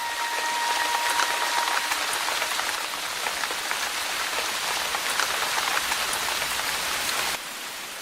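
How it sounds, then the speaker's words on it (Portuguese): Steady rain pattering on hot rocks, a dense, even hiss of drops that continues throughout. "A chuva sobre as rochas quentes."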